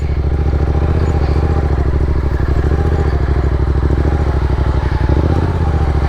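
A 2016 Yamaha FZ-07 motorcycle set up as a stunt build idles loud and close, its parallel-twin engine giving a steady, throbbing, evenly pulsing rumble with faint mechanical clatter throughout.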